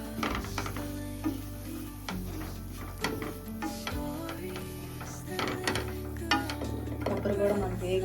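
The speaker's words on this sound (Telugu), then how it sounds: "దాంట్లోని కొబ్బరి కూడా వేస్తున్నానండి. ఇది కూడా నెయ్యిలో వేయించుకుంటే బాగుంటుంది." Grated coconut fries in ghee for rava laddu, a soft sizzle under frequent clinks and scrapes of a spoon stirring against the pan, fairly quiet and close.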